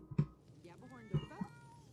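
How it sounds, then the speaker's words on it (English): A cat meows twice in the video game Selma Saves the World, short and fairly close, with a higher-pitched electronic melody playing in the background. "Delphi's such a good cat."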